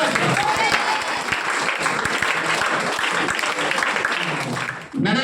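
An audience claps at an awards celebration, with dense, loud, sustained applause that ends abruptly, with a voice coming in at the close.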